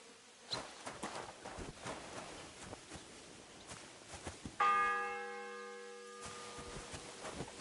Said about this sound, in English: The first bell. Another 11 to go.